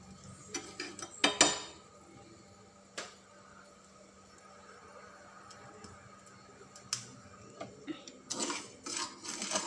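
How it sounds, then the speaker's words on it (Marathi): Sugar is stirred in a pan for pistachio kulfi, with intermittent close spoon clinks and scrapes against metal, quiet between bursts and busier toward the end. "आपण साखर ढवळत राहूया जोपर्यंत ते पातळ होत नाही झालं."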